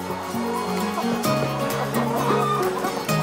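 Large, hardy Isa Brown laying hens cluck in a continuous flock chorus, their overlapping clucks and short calls steady and fairly close.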